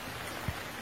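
Steady rain falling, a dense even hiss with one soft thump of a drop, continuous and close with no voices.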